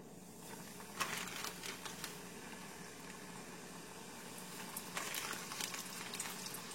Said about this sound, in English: And let's just put this here to fry real quick.